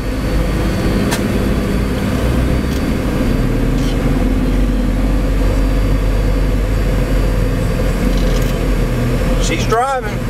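Steady low engine and road rumble from inside a 1989 Alfa Romeo Graduate Spider on a test drive, continuous and fairly loud, with people talking over it.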